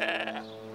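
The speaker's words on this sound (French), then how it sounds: "on voit ces moutons là-dessous" A single sheep bleats once, a short wavering call heard fairly close, with a quieter tail fading into the background.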